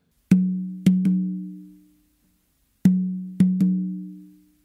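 A tumba conga drum plays a tumbao pattern: two groups of three ringing open tones, one beat then two close together, with a pause between groups. Each tone is close and resonant and decays over about a second, with no talk.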